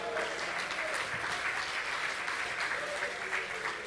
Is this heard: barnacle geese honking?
no